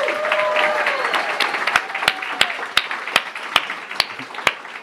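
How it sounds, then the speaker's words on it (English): Audience applause at an art and activism event, a dense round of clapping that thins out, leaving a few loud, evenly spaced individual claps close by, with a brief voice early on. "another round of applause for Samia and Nelly"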